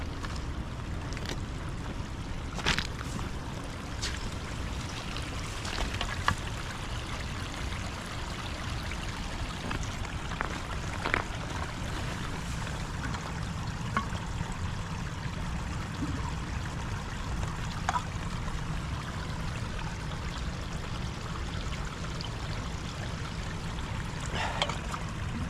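A water bottle is filled in the Didnojoki river on a solo hike near Halti. Steady rushing water runs throughout the clip, with a few faint clicks and splashes on top and no voices.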